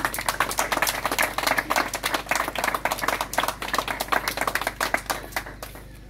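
Audience applause at a chief's installation ceremony in Cameroon, a loud, dense burst of clapping from a crowd, steady for several seconds before thinning out at the end, no voices over it.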